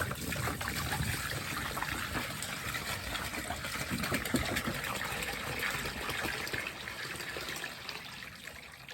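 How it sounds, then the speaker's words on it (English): On an icy farm at sunrise, water is poured into a bowl for the chickens: a steady, close gushing trickle that runs unbroken for several seconds, then eases slightly near the end. "Put the water in."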